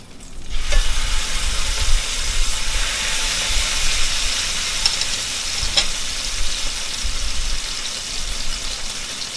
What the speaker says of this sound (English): Alright, time to turn the bacon, so let's do that.